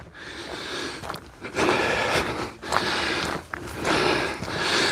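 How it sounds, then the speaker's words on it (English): Heavy, rasping breaths of a person walking uphill on the Lake District fells, caught close on a small microphone: repeated loud inhale-exhale surges with brief pauses between, snorting and gasping over wind-like hiss, no talk. "If you can hear me breathing like a horse."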